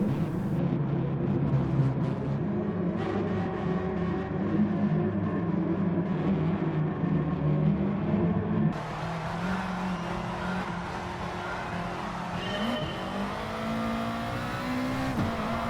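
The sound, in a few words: Gr.3 race cars starting a race at Suzuka Circuit, from a video game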